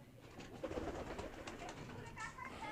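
Pigeons on a small pigeon farm coo softly and low in murmuring bursts, faint and close, with a voice talking over them.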